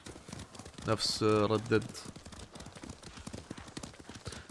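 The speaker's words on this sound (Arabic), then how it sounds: "احسن شيء سووا انه ما حطوا الحصان يتعب" A horse's hooves clop at a quick gallop in the samurai game Ghost of Tsushima, with a steady rhythm running throughout while someone talks over them.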